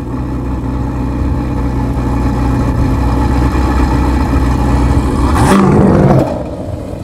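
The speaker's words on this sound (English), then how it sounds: "The exhaust system has been tweaked to give the car the proper sound while maintaining its Grand Tour" Ferrari Portofino with a tweaked exhaust and electric bypass valve, a steady loud engine drone that swells and revs briefly near the end before settling back, with no talk over it.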